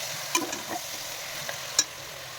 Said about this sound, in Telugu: ఇవన్నీ మిక్స్ అయ్యేలాగా బాగా కలిపి ఆ పచ్చి వాసన వెళ్ళే వరకు రోస్ట్ చేయాలి.